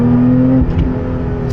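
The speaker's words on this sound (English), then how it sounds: "Listen to the supercharger." A supercharged engine in a manual car revs loudly and close, a high supercharger whine holding steady and then dropping away as the engine note falls.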